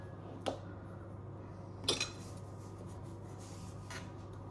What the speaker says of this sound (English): now first we're gonna grab the milk powder, mix it in a bowl